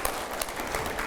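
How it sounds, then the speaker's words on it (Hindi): Audience at a political television discussion claps briefly, a quick, moderately quiet burst of applause with a few sharper individual claps standing out. "मैं पहले जोरदार तालियां हो जाए जरा इन सवालों के लिए।"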